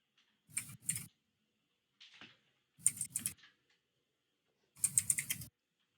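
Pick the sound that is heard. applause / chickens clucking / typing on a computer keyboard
typing on a computer keyboard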